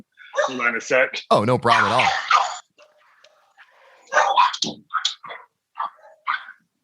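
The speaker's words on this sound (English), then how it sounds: "I apologize for my dogs." Dogs bark and yip indoors in a home office, a few sharp barks mixed in with close conversation, likely set off by someone at the door.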